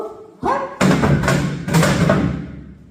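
Janggu drum struck in a trot rhythm, a few loud close thuds and taps in quick succession with strong low body and ringing overtones.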